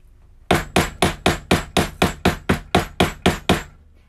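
Steady hammer strikes during leathercraft: thirteen sharp, even knocks about a quarter second apart, close and loud, with no talking.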